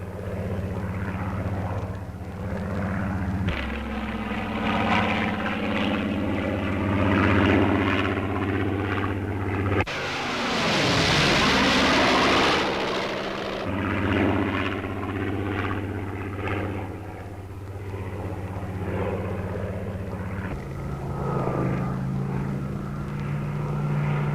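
A Supermarine Spitfire Mk 14 with larger radiators and a drop tank: its propeller engine drones loud and steady with harmonic tones, swelling into a close, roaring pass before settling back to a sustained drone, no talk.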